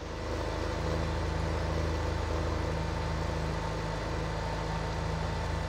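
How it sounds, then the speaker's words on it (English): A Magnum tractor idles in a farming game, a steady, even engine drone that holds at constant loudness from start to finish, alone and close. "This is a pretty nice tractor here."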